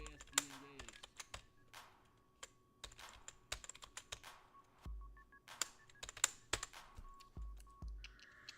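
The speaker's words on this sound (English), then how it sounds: "My mouse is just being really cantankerous, so I'm just going to have to keyboard it" Computer keyboard keys tapped in short irregular bursts with pauses between, close and fairly quiet.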